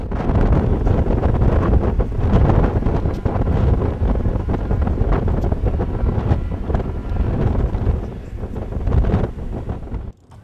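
Strong wind buffets the microphone in a loud, continuous rumble that gusts and eases, dropping off abruptly at the end, at a kite-flying event.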